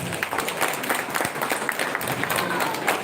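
Audience applause at a school annual day event, a dense, steady wash of clapping from a crowd that carries on through the whole stretch at an even level.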